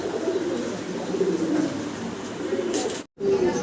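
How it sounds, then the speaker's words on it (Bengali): A pair of Andalusian-colored Mundian pigeons coo softly and repeatedly over room hum, low throaty calls close by, with a brief dropout near the end before cooing resumes. "ফুল অ্যান্ডালুজিয়ান কালারের আমরা এক পেয়ার মুন্ডিয়ান কবুতর আপনাদেরকে দেখাচ্ছি"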